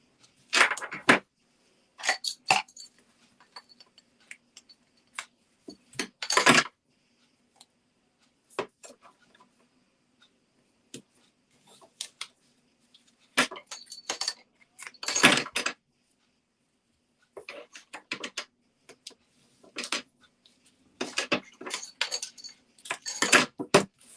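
Scissors snip through tear-and-tape for a handmade craft card, in close, crisp bursts of cutting and rustling with quiet pauses between them.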